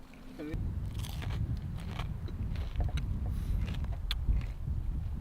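Someone bites and chews crispy stuffed food inside a car on an Iceland road trip, with close, repeated crunches over a low rumbling background.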